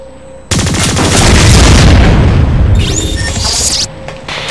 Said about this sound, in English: Blast these containers to get them out of your way.